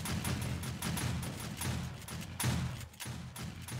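Shotgun turrets fire at zombies in 7 Days to Die, a steady, rapid string of booming blasts roughly every third of a second over a dense, continuous rumble.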